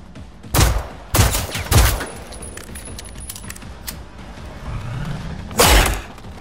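Gunfire in Generation Zero cracks out as a few loud, separate shots aimed at lamps, with a short quiet stretch and a low rumble before a final sharp blast.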